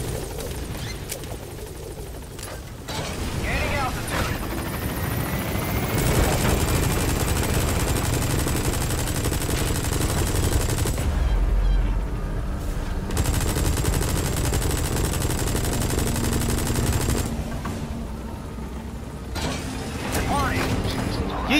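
Sustained gunfire and mechanical battlefield noise from a Metal Gear Solid V firefight against a sniper, dense and continuous for most of the stretch, with a voice talking over it at times.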